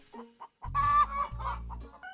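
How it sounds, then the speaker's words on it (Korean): A brooding hen sitting on eggs in a covered corner of a coop gives soft, short clucks, then a louder, drawn-out run of clucking and grumbling, heard close up with no talk. "알을 품고 있는 닭."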